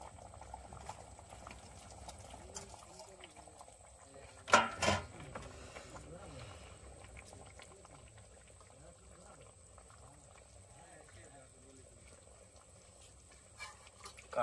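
Vegetable curry bubbling in a cooking pot, a faint, steady simmering hiss broken by one brief clatter partway through and a small knock near the end.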